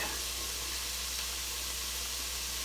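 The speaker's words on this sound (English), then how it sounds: "next thing I want to add to it is 1 teaspoon of minced garlic" Minced garlic sizzles steadily in a hot pot for chicken rice soup, an even bright hiss of frying that holds at a constant level throughout with no talk over it.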